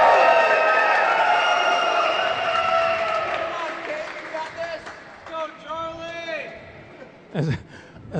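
A crowd at a racquetball semifinal match in Seattle cheering for the underdog; a broad sustained roar of voices and applause that gradually thins, with scattered shouts and a sharp ball strike near the end.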